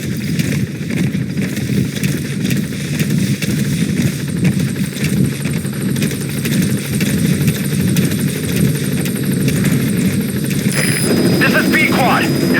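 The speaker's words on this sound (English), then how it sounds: "Support helicopter has arrived." A hovering support helicopter in Metal Gear Solid V: The Phantom Pain: rotor thumps in a steady, close chop with a throbbing engine drone, a voice speaking over it and a brief electronic tone near the end.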